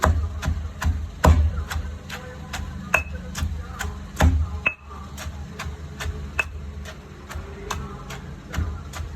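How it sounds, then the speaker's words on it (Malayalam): Spices pounded together with tamarind in a mortar give a fast, even train of sharp thuds, about three per second, fairly close and with no talking. "എല്ലാം കൂടെ നന്നായിട്ട് ഇടിച്ച് യോജിപ്പിക്കാം"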